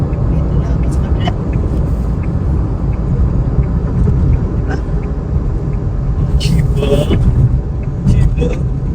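Fast cars pass along a road in Brunei with a steady loud rumble of traffic, and brief whooshes rise as vehicles go by.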